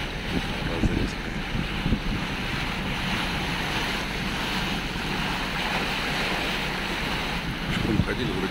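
A motor boat cruising on the sea off Lazarevskoye as it heads toward the shore, its steady engine rumble blending with wind buffeting and the wash of waves for the whole stretch.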